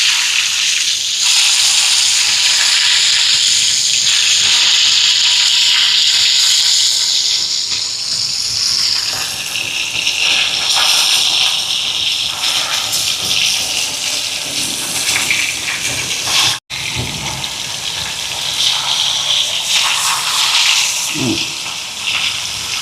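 Fish frying in a hot pan and being flipped over, a loud, steady hiss of oil that runs throughout, with a brief break and a light clatter near the end.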